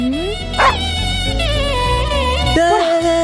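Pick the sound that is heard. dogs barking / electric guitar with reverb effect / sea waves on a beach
dogs barking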